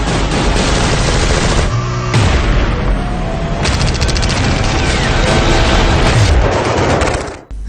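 Sustained gunfire along the Line of Control in the Battal sector, loud, dense bursts of shots and booms that run almost unbroken and cut off abruptly at the end.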